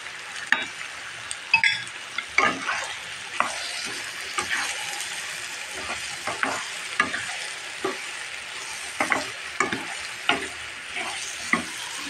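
Hot mustard oil sizzles steadily while a spoon stirs and scrapes hog plum pickle in the pan in irregular knocks, close and clear, with no voices.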